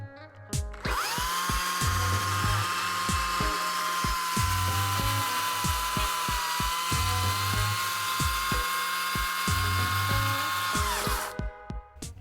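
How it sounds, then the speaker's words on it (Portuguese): A Makita cordless chainsaw with 5 or 6 amp-hour batteries whines at a steady high pitch for about ten seconds, revving up at the start and winding down at the end, close and loud. "uma motosserra Makita com baterias de 6 ou 5 amperes"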